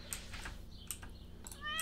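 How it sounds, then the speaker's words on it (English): Cat meowing in a Stardew Valley-style farming video game, a few short high mews spaced across the moment, fairly clear over a low steady background hum. "Give the cat love, water the cat."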